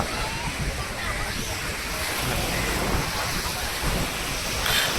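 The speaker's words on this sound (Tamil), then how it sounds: "கடல் ஓரத்தில் நின்றுட்டுருக்கிறேன்" Sea waves washing onto the shore near Rameswaram temple, a steady broad roar of surf with wind buffeting the microphone, continuous and fairly loud.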